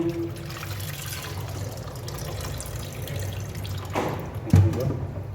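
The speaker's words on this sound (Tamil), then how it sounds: "மாஸ்டர் கழுவிட்டு இருக்காரு, மீனை கழுவிட்டு இருக்காரு" Fish being rinsed in water for a village-style sardine curry, a steady low wash of splashing and running water with a louder slosh near the end.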